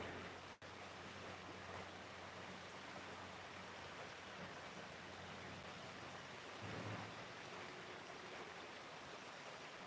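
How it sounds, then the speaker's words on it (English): A creek in the coal region near Shamokin gives off a steady, rushing wash of flowing water, constant and broadband, with no talking. "I'm at the A&B Creek here in Shamokin."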